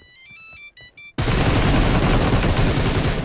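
A planted C4 bomb in a shooter video game beeps in a quick, phone-ringtone-like pattern of bright tones for about a second before loud, continuous gunfire abruptly drowns everything out.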